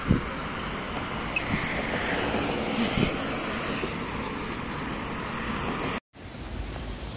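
A man-made waterfall fountain in Chai Wan Park, Hong Kong, a steady loud rush of falling water mixed with wind buffeting the microphone, briefly cut off near the end.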